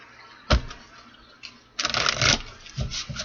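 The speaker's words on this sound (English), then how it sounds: "Let's get 3 more shuffles. This is the Tarot of Dreams." Tarot cards being shuffled by hand, a quick riffle near the start followed by a longer, louder burst of rustling and flapping cards, close and alone with no talk.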